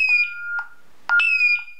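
A Honeywell alarm keypad, armed with a remote control, gives two clear electronic beeps, each a sustained tone, loud and close with a short gap between them.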